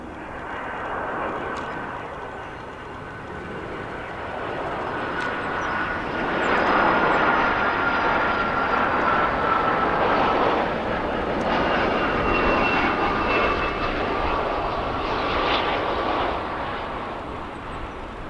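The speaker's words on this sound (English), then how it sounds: "Nice landing by that 757-200 from Edinburgh in the UK." A Boeing 757-200 airliner arriving from Edinburgh lands at O'Hare airport, its engines producing a steady, loud roar that swells mid-pass and holds with a faint whine on top.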